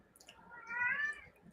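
A single drawn-out cat meow rises and falls in one faint, nearby call lasting under a second against a quiet indoor background.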